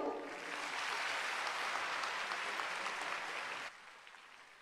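Applause from an audience at a Kanyashree 12th anniversary celebration, a sustained wash of many hands clapping at moderate distance that stops abruptly after a few seconds and leaves faint room noise.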